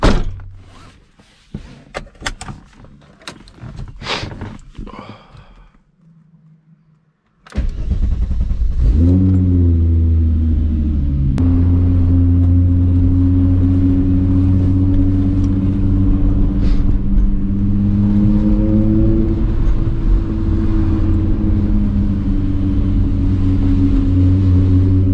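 A Mk3 VR6 VW GTI engine cranks and starts with a thunk, then settles into a steady, loud running drone as the car drives off; scattered clicks and knocks come before it.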